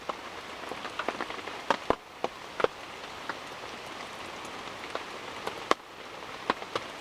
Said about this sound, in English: when it is raining like this